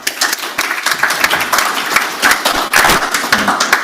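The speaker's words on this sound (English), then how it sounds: "I'm really not sure you should clap before I've started." A conference audience claps for a speaker taking the floor at an opening plenary, with bright, dense hand claps, some sharp individual slaps standing out, sustained and fairly close.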